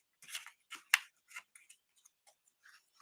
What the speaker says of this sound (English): And then I am just going to trim it, hopefully straight.